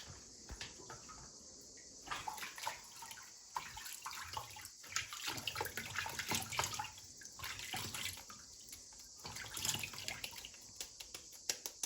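Homemade butter is rinsed in clean water by hand, with irregular splashing and trickling close by and crickets chirping steadily in the background.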